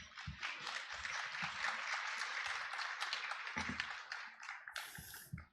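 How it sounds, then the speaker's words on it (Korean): An audience at a launch ceremony for a mobile CT screening bus applauds in a faint, distant, continuous patter. A few low thumps sound in the background before it trails off. "박수 부탁드리겠습니다."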